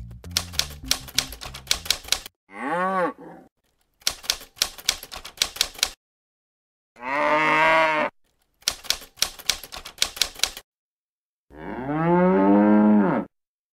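Bursts of rapid typewriter clacking alternate with long, loud cow moos, each sound on its own with short silences between.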